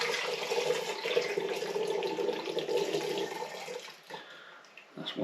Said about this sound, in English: I'm going to pour it in around the side so it doesn't splash up.